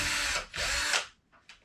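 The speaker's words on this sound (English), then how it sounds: "So then what I do is basically just drill a hole" A power drill bores a hole straight through the back of a Spro Freestyle Xtender fishing net handle, two loud close whirring bursts about half a second each, then quieter brief spins as it winds down.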